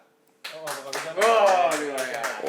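A group of people clapping hands to vote in a room, a scattered burst of claps under loud talking from several voices.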